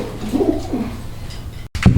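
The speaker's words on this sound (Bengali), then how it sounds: "এখানে একটা সিঙ্গেল কবুতর রয়েছে" A pigeon coos softly a few times close by, low throaty murmurs over a steady background hum, with a brief drop to silence near the end.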